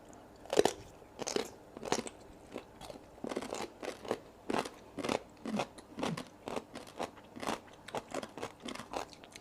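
Close, loud crunching bites and chewing of a spicy Thai green kong chai vegetable salad with shrimp, with sharp crisp crunches repeating in a steady rhythm of about two per second.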